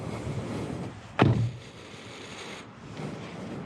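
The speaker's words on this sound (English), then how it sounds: "Let's go ahead and shut the door." A single solid thud of a 2019 Honda CR-V EX car door slamming shut close by, against quiet background noise.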